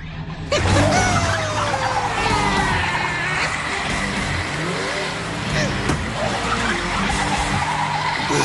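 A cartoon car driven by a monkey skids with loud, wavering tire squeals over revving engine noise, sustained and close, with some voices underneath.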